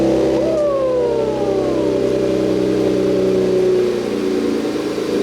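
A straight-piped Infiniti Q50 Red Sport fires up on a warm start, settling into a loud, steady exhaust drone with a falling whine early on, and no talking.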